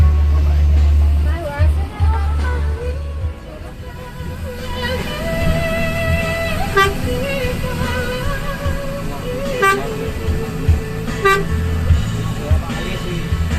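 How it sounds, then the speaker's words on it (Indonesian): Busy bus terminal in Purworejo, Indonesia, crowded with Sinar Jaya buses: low idling engines rumble while several short horn toots ring out at intervals, with voices chattering around throughout. "ini suasana terminal Purworejo teman-teman ya"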